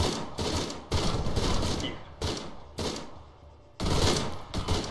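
Sustained bursts of machine gun fire in the military shooter Arma, sounding as several loud rapid volleys separated by short pauses, with no talking over it.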